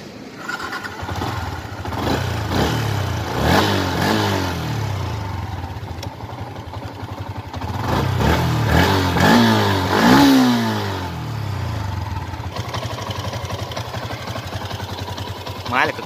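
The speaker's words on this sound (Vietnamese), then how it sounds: "Nổ máy cho anh em nghe nha." A Yamaha Exciter 150 motorcycle engine rumbles and revs in a few rising bursts, then settles into a steady idle, with a person talking over it.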